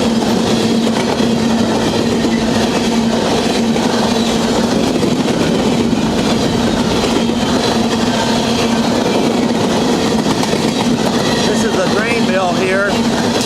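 A freight train rolls past at Pembroke, Kentucky, a loud continuous rumble with steady engine drone and clattering wheels up close, holding strong throughout.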